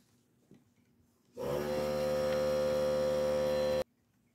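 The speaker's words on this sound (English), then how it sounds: "There was an unexpected air compressor going off in the background." A loud, steady mechanical drone with strong tonal hum kicks on abruptly, runs about two and a half seconds, then cuts off, from an air compressor going off in the background of an indoor room.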